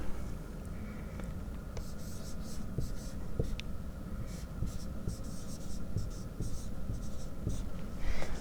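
Pen writing out an oxidation half-reaction for a redox equation on a board or paper, heard as a steady run of close scratchy strokes with short pauses over a low background hum.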